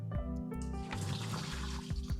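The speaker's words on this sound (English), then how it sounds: "Then you're gonna strain off the water." Soaking water is strained off soaked walnuts, a soft, steady pour and trickle running for a couple of seconds beneath a pulsing low hum.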